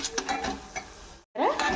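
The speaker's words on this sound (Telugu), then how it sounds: "మంచి కలర్ వచ్చేదాకా మనం ఫ్రై చేసుకుందాం." Curry leaf spice mix with chili powder being fried and stirred in a pan, a soft scraping sizzle broken by a brief silence, then livelier stirring resumes.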